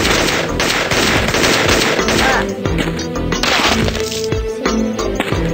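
A minigun fires in the video game Gun Mayhem: loud, continuous rapid gunfire with crackling impacts and game effects, densely packed without a break throughout.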